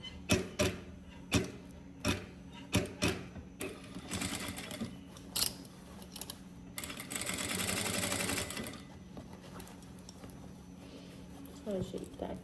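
A sewing machine stitches a bag seam in short bursts of rapid mechanical clatter, separated by pauses and clicks, with one longer steady run near the middle; the sound is close and fairly quiet.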